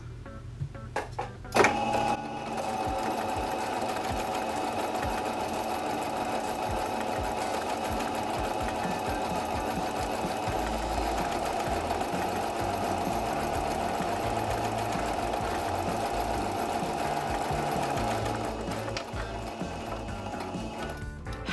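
A home sewing machine stitches at a steady, even clatter for about twenty seconds. It is close and alone, with a brief click at the start and again at the end.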